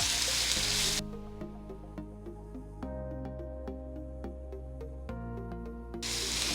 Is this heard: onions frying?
yes